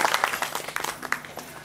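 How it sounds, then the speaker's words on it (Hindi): Audience applause at a Hindi-language spiritual discourse: a moderately quiet, dense patter of many hands clapping, with a few sharper individual claps standing out, sustained throughout without clear speech. "आप सब लोग तालियों की गड़गड़ाहट से अभिनंदन करें"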